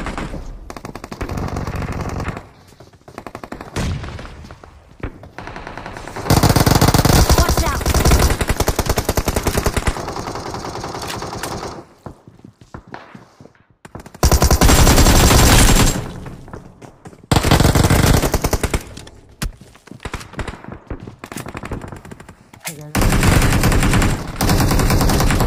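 Sustained machine-gun and rifle fire in the mobile battle royale game BGMI (Battlegrounds Mobile India), played on an iPhone 13 in a squad fight, with loud extended bursts alternating with quieter lulls across the whole stretch.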